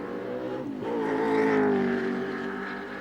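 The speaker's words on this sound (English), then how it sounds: "On the rev limiter there, coming up to the left-hander at BP Cutting. Accelerate hard out of there." A Group A race car engine at Bathurst's BP Cutting screams on the rev limiter, a loud nasal tone that dips briefly before climbing hard again under acceleration, heard as an onboard drone throughout.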